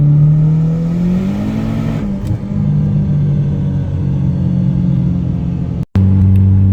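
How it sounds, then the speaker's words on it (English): A Chevrolet Cobalt SS turbo engine drones and revs from inside the car, pitch climbing and dipping under load with a sharp cut near the end, loud and continuous with no talk. "They do make pretty good fucking turbo sounds when you guys get into it."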